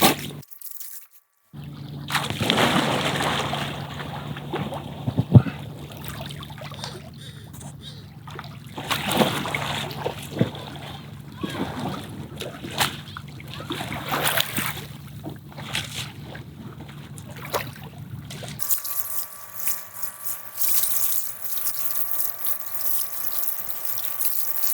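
Inflatable paddleboard paddled through open water, with repeated splashing strokes and dripping swooshes in a loose rhythm, close by, before a shift to steady wind-like noise near the end.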